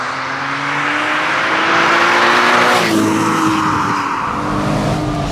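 A Porsche 987 Boxster S engine drones loudly from inside the car while driving at speed on rough roads, with a rising, then shifting engine tone and steady road noise and no talking.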